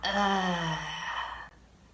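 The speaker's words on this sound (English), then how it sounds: "Like just make a sound from your stomach and just breathe it out." A forceful, voiced exhale pushed out from the belly during a breathing exercise, one long close sigh-like breath that fades into quiet.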